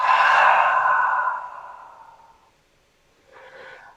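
A long, audible exhale through the nose during yoga breathing, close and breathy, fading out over about two seconds, followed after a pause by a softer, shorter breath.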